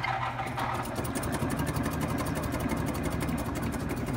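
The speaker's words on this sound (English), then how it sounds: "Here's a larger shaper that's set up to do these pump gears." A large gear shaper cuts pump gears, running steadily with a continuous mechanical hum and a fast rhythmic clatter of the cutting strokes, loud and close, with no voices.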